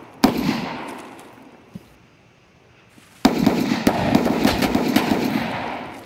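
Rapid enemy gunfire in a survival video game, a loud burst up front, then a quieter stretch, then sustained fast shots that crackle on to the end.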